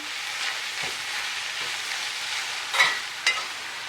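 Bitter melon (carilie) fries in a pot over medium-high heat, with a steady close sizzle and two sharp utensil clanks near the end as it is stirred.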